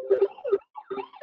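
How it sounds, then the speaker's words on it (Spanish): An alarm sounds nearby in a home, a loud warbling electronic tone that repeats in short rising and falling pulses with brief gaps between them. "Como habrá alguna alarma sonando"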